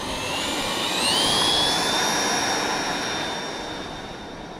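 In a flight video game, an F-14 Tomcat jet with full flaps roars on takeoff, a loud sustained jet engine whine rising in pitch and swelling, then easing slightly, with no talk.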